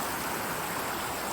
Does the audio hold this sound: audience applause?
no